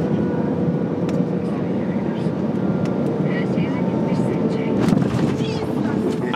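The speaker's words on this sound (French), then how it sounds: "Atterrissage est brutal quand même." Airplane landing on arrival from Abidjan, heard from inside the cabin as a loud, steady roar of engine and rumbling wheels with a heavier jolt near the end, and people talking over it.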